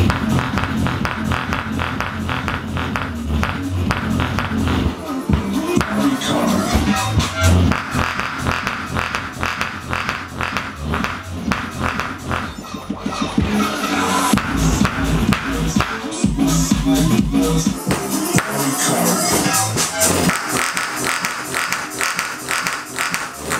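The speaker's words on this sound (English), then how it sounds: "Let's crank some power through this one and see if we can get more of a smoke show out of this one." An LG woofer with its dust cap removed is overdriven until it smokes, giving a loud, continuous distorted buzzing and rattling roar that holds steady throughout with gritty crackles.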